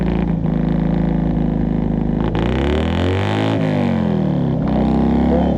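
A Citroën 2CV's small 40-horsepower twin-cylinder engine with twin exhaust revs up and down close by, a buzzy, throaty drone rising and falling in pitch, with no talking.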